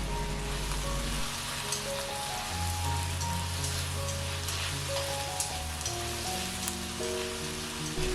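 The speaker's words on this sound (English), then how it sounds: "Fry it for another 20 seconds and we mix all the ingredients together." Kung pao chicken ingredients fry in a hot wok, a steady dense sizzle and crackle of oil that stays loud and even throughout, with a low hum underneath and no talking.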